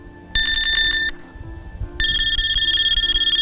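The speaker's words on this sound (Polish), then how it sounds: "Natychmiast będziemy mieć alarm zarówno w sygnalizatorze, jak i w odbiorniku." A Mivardi MX33 fishing bite alarm's anti-theft alarm beeps loudly in rapid repeated bursts, pausing briefly before sounding again, shrill and close.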